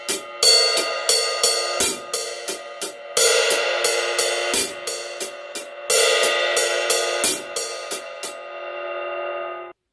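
Drumsticks play a paradiddle pattern split between ride cymbal and hi-hat, a bright, shimmering run of quick accented strokes in steady groups, close and loud, with the cymbal ringing out at the end and no talking.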